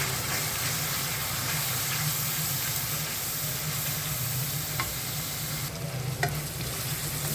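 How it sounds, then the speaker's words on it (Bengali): Spice masala with coriander powder stirred and fried in a hot pan, a continuous close sizzle and hiss with occasional scraping stir strokes, steady throughout with no voices. "মশলাটা ভালো করে কষায় নিলাম।"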